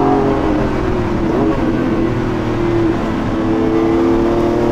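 Lamborghini Revuelto 1015 hp V12 hybrid accelerating, a loud, steady engine drone with rising harmonic tones held close throughout, no talking over it.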